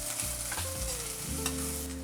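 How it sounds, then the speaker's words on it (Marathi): Onion, garlic and ginger fry and get stirred in a pan, a loud close sizzle with scraping stir strokes and no voices. "हे पण आपण कांद्याबरोबर भाजून घेणार"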